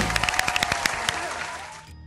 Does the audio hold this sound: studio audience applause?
yes